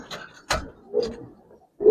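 Black Giribaz pigeons cooing close by, a few short soft coos and rustles spaced across two seconds in an otherwise quiet space.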